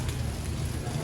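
Steady rain falling outdoors in Lahore, a dense continuous hiss with low rumbling, loud and close throughout with no clear pauses.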